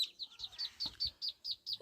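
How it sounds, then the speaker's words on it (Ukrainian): Ducklings peeping in a run of about ten short, high, evenly spaced calls, fairly near and soft, with faint low scuffling underneath, in a poultry yard where goslings are also kept. "Так, ось каченята."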